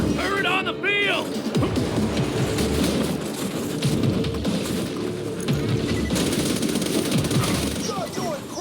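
Turret gunfire in the Borderlands 2 video game during a bunker fight, rapid dense bursts running the whole time alongside explosions and a crackling battle din, with a voice speaking briefly over the chaos.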